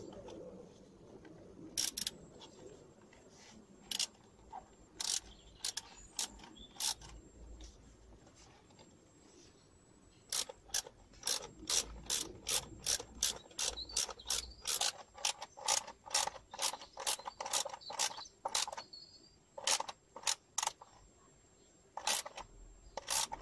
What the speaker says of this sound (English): Let's tighten these up again.